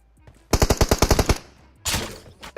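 Rapid automatic gunfire from a PUBG Mobile match, a loud burst of about ten evenly spaced shots followed by a shorter noisy blast a moment later, with no talk over it.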